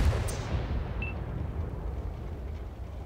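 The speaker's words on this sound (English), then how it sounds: "Just took a massive hit from artillery." An artillery shell slams into a T95 tank in World of Tanks, a heavy low boom at the start that rolls on as a long, dense rumble fading slightly over a few seconds.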